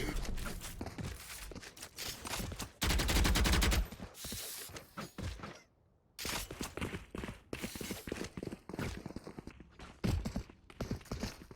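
Bursts of gunfire from the tactical shooter Valorant during a Fall 2022 preseason esports match, with a long loud volley followed by scattered shots and sharp clicks over busy game noise.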